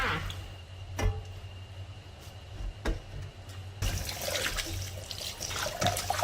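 Tap water runs while pig large intestines, soaked with guava leaves and salt, are rinsed by hand. The trickle is faint and steady with a few sharp knocks, then grows louder and splashier as the washing begins.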